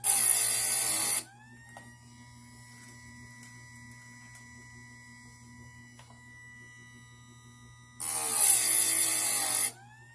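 A Harbor Freight electric chainsaw sharpener grinds a chain in two loud, bright bursts at the start and end, separated by a low steady motor hum with faint ticks.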